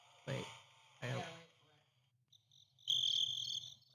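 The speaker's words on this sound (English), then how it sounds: "It's an actual cricket." A cricket chirping from an instant audience sound machine, a bright, high, continuous trill that starts partway in, preceded by two short loud bursts and low background hum.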